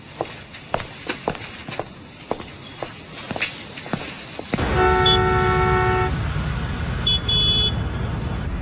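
Footsteps walk along, then the scene cuts to loud, close street traffic: a broad steady roar of stuck cars with several sharp car horns honking, one long blast followed by a shorter second toot.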